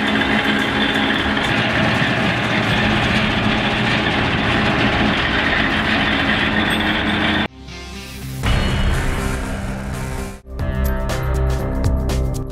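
A self-propelled agricultural harvester works in a field, its engine a loud, steady broadband roar that gives way partway through to shifting mechanical clatter and whine.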